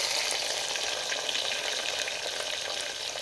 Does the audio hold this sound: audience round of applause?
no